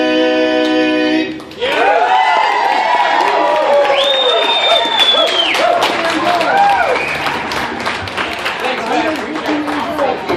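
A large outdoor crowd at the Pocatello RecoveryFest general ceremonies breaks into loud cheering, whoops and sustained applause after the national anthem ends, the noise swelling and continuing steadily throughout.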